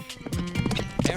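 Horse hooves pound in a steady clip-clop rhythm, a galloping mount carrying a mounted archer, loud and close with a rushing background.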